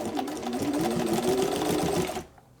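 A heavy-duty home sewing machine stitches through thick boat-top canvas and vinyl, running in a fast, steady chatter of needle strokes for about two seconds before stopping abruptly.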